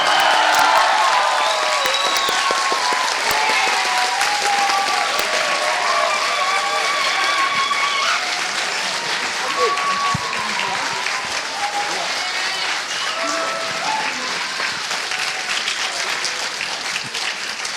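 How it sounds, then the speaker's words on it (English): A conference audience breaks into sustained applause with scattered cheers and whoops after a talk by a games-industry orchestral composer, the dense clapping filling the room at an even level throughout. "if you guys are all going to applaud, I'm going to record it"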